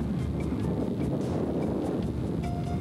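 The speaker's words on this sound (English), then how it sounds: "it is windy out here" Constant wind buffets the microphone with a low, rumbling roar, steady and unbroken, with no one speaking.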